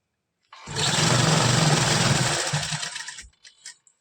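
An electric sewing machine stitches a pleat into a salwar, making one continuous close whirring run of about three seconds that slows and stops, followed by a couple of small clicks.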